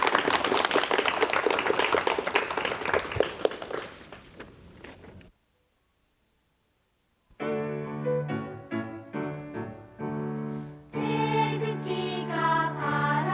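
Audience applause in a 1986 KBS television studio talk show, introducing a children's choir: dense clapping for about five seconds that fades to silence, followed by music.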